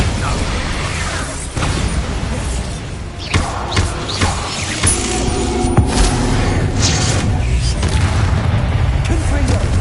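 The Bombarda spell goes off in Hogwarts Legacy with heavy thumps and booming blasts over a loud, continuous bed of game combat noise.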